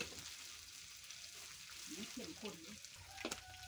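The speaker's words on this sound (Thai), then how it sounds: "ใส่พริกลงไป ผัด" Chili peppers stir-frying in a pan before clams go in, a faint steady sizzle with soft scraping and stirring sounds and a brief clink near the end.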